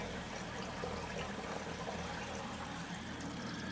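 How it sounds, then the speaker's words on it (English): Steady rushing and gurgling of water filling a grow bed through an external siphon, a continuous close-up flow with no voices. "And the water is being filled."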